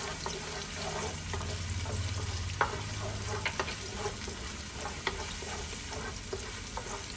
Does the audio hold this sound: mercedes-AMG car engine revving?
no